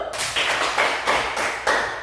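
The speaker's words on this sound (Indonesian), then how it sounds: "tepuk tangan dulu" Pupils in a classroom lesson clap together in a steady patterned rhythm, about three sharp bursts per second, close and moderately loud, with no talking.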